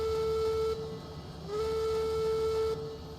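A steam locomotive whistle in the video game Railroads Online sounds in two long, steady tonal blasts with a short break between, loud over a low mechanical background hum.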